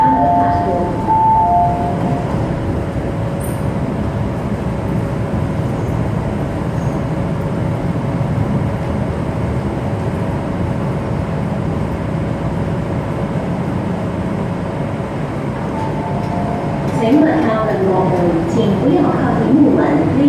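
A Kwun Tong line metro train pulls into Prince Edward station, a steady loud rumble of wheels and motors filling the platform with a faint tonal whine, rising slightly near the end as the train arrives.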